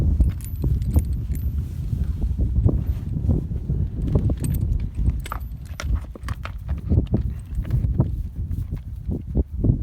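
A horse walks on a cattle ranch in New Mexico, its hooves clip-clopping in a steady uneven rhythm at close range, with faint rustling and jangling of tack.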